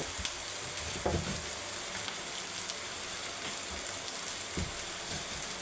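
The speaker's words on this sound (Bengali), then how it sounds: "গাজর পেঁয়াজ তারপর হচ্ছে বাঁধাকপি এগুলো দিয়ে ভালো করে নেড়ে চেড়ে নেব" Carrot, onion, cabbage and capsicum stir-fried together in a pan, giving a steady close sizzle with a couple of sharp scraping stirs, and no voices.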